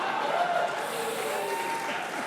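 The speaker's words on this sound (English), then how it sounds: "That was quite a scathing applause." Audience clapping in a steady wash of applause, moderately loud and continuous, with some crowd noise blended in.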